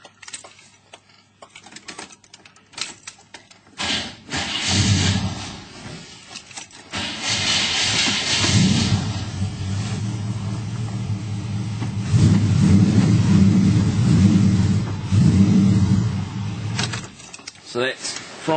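Clicks and rattles give way to an HQ Holden's V8 cranking over from cold without a choke and catching, settling into a deep, loping idle that keeps rumbling steadily, with a voice heard early on.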